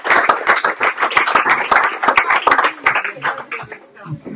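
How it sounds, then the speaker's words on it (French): Applause for Isabelle, thanked for her work with the RCV rugby association; close, distinct hand claps in a loose rhythm, with voices mixed in and the clapping thinning out toward the end. "Je propose de te lever et faire un tonnerre d'applaudissements à Isabelle"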